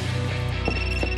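A telephone rings indoors with a steady electronic warble, loud and close, in a short burst with no voices over it.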